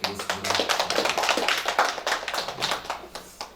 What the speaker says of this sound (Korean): 우리 찬양을 받아주신 우리 하나님께 영광의 박수 올려드리겠습니다